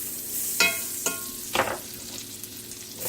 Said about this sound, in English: we're going to add a little more olive oil and butter